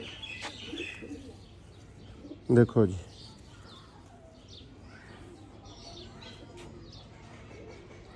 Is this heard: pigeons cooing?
yes